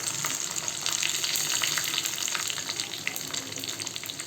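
Garlic hits hot oil already toasting cumin seeds in a pan on a low flame, a bright steady crackling sizzle that carries on continuously at moderate loudness, close up, with no talking.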